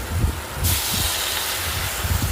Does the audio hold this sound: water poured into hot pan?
yes